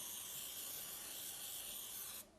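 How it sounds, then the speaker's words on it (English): A steady, close hiss of an oil sprayer runs for about two seconds, then cuts off abruptly. "Give it a spray of oil on both sides"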